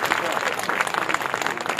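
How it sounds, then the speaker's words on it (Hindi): Audience applause at a Hindi poetry gathering, a brief burst of many hands clapping with rapid uneven claps, fairly loud and sustained throughout. "आगे से पीछे तक एक बार जोरदार तालियां बजा दीजिए"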